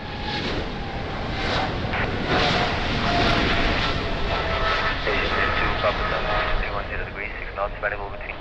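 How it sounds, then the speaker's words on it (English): Boeing 777 jet rolling for takeoff at Lisbon Airport, a loud, steady engine roar with broad rushing noise that holds throughout without letting up. "Boeing 777, rolling for takeoff"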